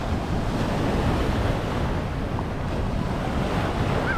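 Ocean surf rolls along the Oahu coast near Diamond Head, heard as a loud, continuous wash of breaking waves with wind buffeting the microphone throughout.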